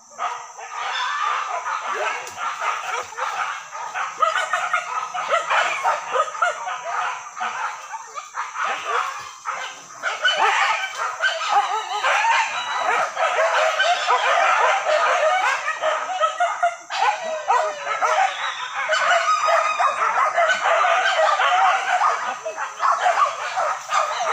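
Hunting dogs on a wild boar hunt in Jaruai, Solok, bark and yip in a continuous, excited chorus close by, with people talking among them throughout.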